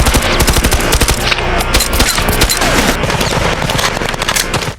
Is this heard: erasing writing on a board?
no